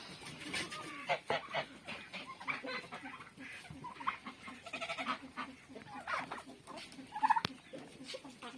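Domestic turkeys puffing up on a farm with geese and chickens, making soft repeated gobbling and clucking calls at moderate distance amid other poultry noise, fairly quiet overall.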